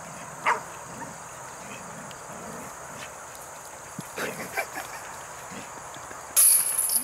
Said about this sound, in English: These are not our dogs, by the way. We did not bring them.